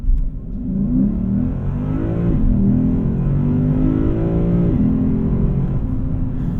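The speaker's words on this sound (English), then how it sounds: "Just go ahead and do a quick 0 to 60 while we're at it here" A 2024 Lexus IS500 F Sport Performance Premium accelerates hard from 0 to 60 in Sport Plus mode, its engine note loud and rising through the gears with audible shift dips.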